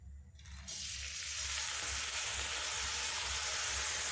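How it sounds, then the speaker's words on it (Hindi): Lentils (dal) for Bengali khichdi hit hot fat in a pressure cooker and burst into a loud, sudden sizzle that then holds as a steady frying hiss, close up and with no talking. "दाल को हमें थोड़ा सा भून लेना है, हल्की सी जो खुशबू आने लगे"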